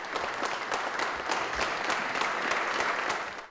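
Sustained applause from a concert audience at an evening music performance by a trio in Osmangazi, dense steady clapping throughout, fairly close and even, with no speech, then cutting off at the end.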